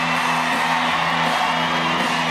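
A rodeo arena crowd at a PBR bull-riding event roars in a steady wash of cheering and whooping, loud and continuous throughout.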